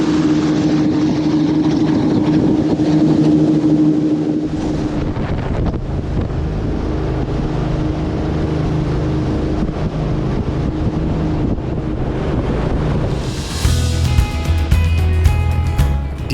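An Island Whaler jet boat at Deception Pass speeds up across the water, its engine droning under constant wind rush on the microphone, with splashing and a rising roar near the end.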